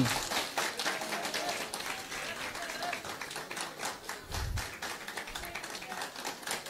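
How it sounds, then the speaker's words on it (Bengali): Scattered audience clapping at an award ceremony, a fairly quiet patter of hands spread across the room, with a low thump and faint background voices mixed in. "একটু জোরে হাততালি"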